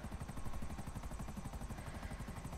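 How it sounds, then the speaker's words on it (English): A video game helicopter chops away with fast, steady rotor pulses, a loud, continuous thrum that stays constant throughout with no voices over it. "I might try this in the helicopter"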